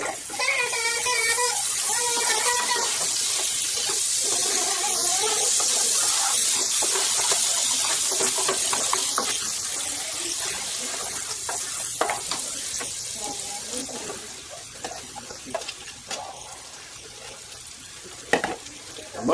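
Garlic sizzles in a hot pan, a loud continuous hiss with stirring scrapes that gradually softens, while a voice talks over it at times.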